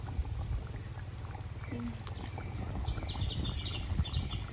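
Anchovy fish curry with roe simmering at a rolling boil in a pot, giving a steady, close bubbling and gurgling texture that runs unbroken with no voices.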